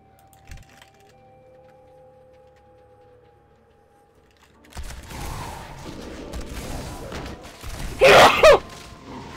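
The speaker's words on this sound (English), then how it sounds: "Ah, another sneeze." A character sneezes in World of Warcraft during play, a short loud burst near the end after a quieter stretch of game sound and ambience.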